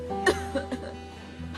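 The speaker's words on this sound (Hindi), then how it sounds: "तुम उससे ऐसे खांस के बात करना।" A person deliberately coughs to demonstrate, giving a few short, close, dry coughs over a couple of seconds indoors.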